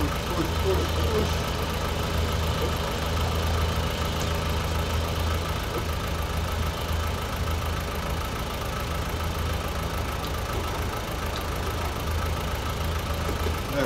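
A tractor engine pushes a trailer in Farming Simulator 19, a steady mid-pitched idling drone with a knocking rumble that holds throughout.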